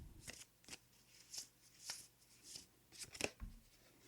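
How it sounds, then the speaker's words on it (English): A deck of oracle cards is shuffled by hand in a series of soft, papery riffles and flutters, close and quiet, with no talk. "Now this deck has been shuffled several times"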